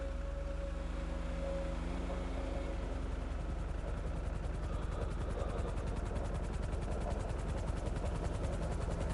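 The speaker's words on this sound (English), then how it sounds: "I'm going to wait right here until the helicopter shows up." A luxury helicopter arriving in GTA 5 Online, its rotor chop running steadily and loudly throughout with a low engine drone, growing denser as it closes in, with no talking.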